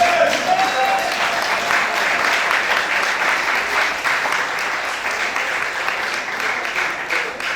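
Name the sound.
church congregation applauding the Lord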